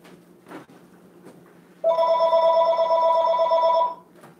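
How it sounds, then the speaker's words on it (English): A telephone rings once, a sustained electronic ring of about two seconds after a quiet stretch with faint background sounds. "Our phone."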